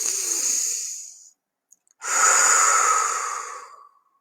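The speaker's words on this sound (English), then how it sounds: "I'm breathing in through my nose all the way into the bottom of my belly and then out" A person takes one slow, deep breath, a long airy inhale through the nose down into the belly, then after a short pause a long, full exhale, close and alone with no other sound.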